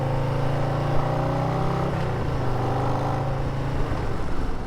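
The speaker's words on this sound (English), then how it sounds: "Love that exhaust." A Harley-Davidson Low Rider ST motorcycle's exhaust rumbles loud and close, revving with deep rising and falling engine tones, no voices.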